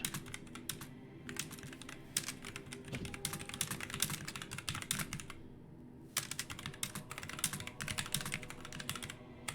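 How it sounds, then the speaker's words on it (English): Steady, fast typing on a computer keyboard, close and clear, with dense bursts of key clicks broken by a few brief pauses. "I'm typing answers to you so you can answer"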